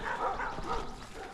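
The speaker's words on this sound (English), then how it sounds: "Oh, and dogs really aren't very happy." Dogs bark at a distance on a rural farm with fruit orchards and fig trees, the barks faint and muffled against steady outdoor noise.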